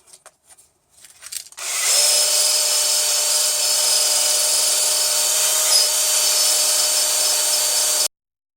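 A power sander with a fresh grit whines steadily against a wooden boat tiller, a few faint scrapes first, then a loud continuous buzz that runs about six seconds and cuts off abruptly.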